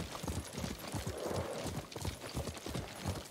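Rapid rhythmic clip-clop of horse hooves at a gallop in the video game Ghost of Tsushima, close and steady, continuing without pause.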